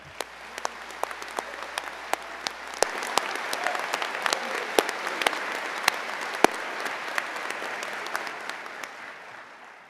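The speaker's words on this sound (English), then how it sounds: "that deserves a round of applause from us all" An audience applauds optometry graduates at a 2023 commencement, a steady wash of clapping with a few sharp individual claps standing out, sustained for about ten seconds.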